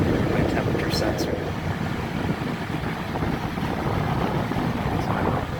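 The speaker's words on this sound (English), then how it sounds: "That's my exhaust noise" A loud, continuous Captive Aire kitchen exhaust hood fan whooshes and rumbles steadily nearby, a broad droning roar filling the space throughout.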